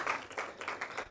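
Polite applause from a seminar audience at a corporate governance session, a short spell of light, scattered clapping that rises and falls in soft pulses.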